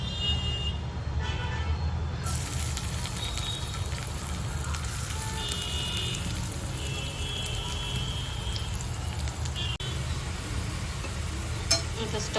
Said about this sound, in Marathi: तेल ठेवलेलं आहे गरम करायला. आता जो स्टफिंग आहे ती बनवून घेते मी.